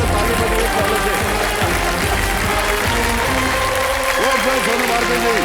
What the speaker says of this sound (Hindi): ताली बजाइए पहले से